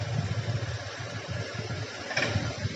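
A Honda Vario 125 FI scooter engine idles with a low, throbbing rumble at close range, running unevenly throughout.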